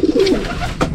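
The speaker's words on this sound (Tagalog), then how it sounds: "Yun mga kalapatids." Racing pigeons coo in a low, warbling pattern through the first half, followed by a brief flutter or scuffle near the end, close and fairly loud with no talking.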